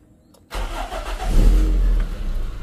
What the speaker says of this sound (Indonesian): kita coba start up aja nih belum dinyalain soalnya mobilnya